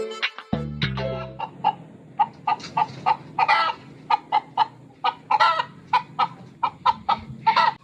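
A hen named Daffy sings her egg-laying song: a few loud squawks open into a run of sharp, evenly spaced clucks repeating about twice a second, close and clear with no talking.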